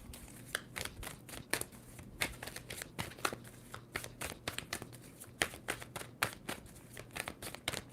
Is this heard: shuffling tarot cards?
yes